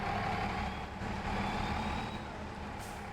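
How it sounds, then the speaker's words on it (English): An old-school tractor engine in a farming game runs loud and steady, a close, continuous low rumble with a faint whine over it. "Or it's just an awesome sounding tractor."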